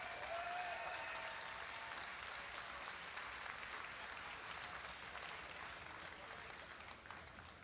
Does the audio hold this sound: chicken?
no